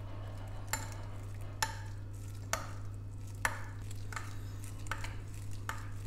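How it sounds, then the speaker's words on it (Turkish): A spoon stirs yogurt with mint in a bowl, making six sharp clinks against the bowl at roughly even intervals over a steady low hum. "Bunu iyice karıştırıyorum."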